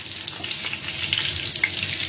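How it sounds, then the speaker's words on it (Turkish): Dried fish sizzles steadily in a frying pan, a continuous close hiss with a few faint pops and no talking. "Yavaş yavaş kızartıyorum."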